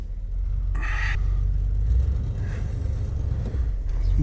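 A 1978 Chevrolet K20 truck, left sitting for 15 years and running cold on old gas, idles with a deep, steady, close engine rumble and brief whooshing noises on top.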